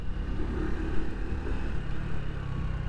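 A 2016 Honda Wave 110i motorcycle ridden on the road and shifted into second gear, with a quiet, steady engine hum and faint rumble throughout, no voices.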